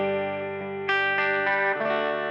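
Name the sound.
electric guitar clean humbucker tone through budget valve amp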